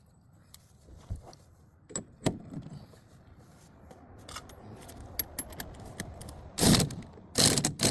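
Torque wrench ratcheting during a wheel, hub and tie rod repair on a 2006 Nissan Sentra, heard as scattered sharp metallic clicks and clatter close by, louder toward the end.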